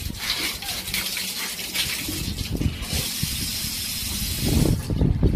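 Water gushes from a bathroom tap with a broken filter, a steady close hissing rush that holds for several seconds and swells slightly near the end.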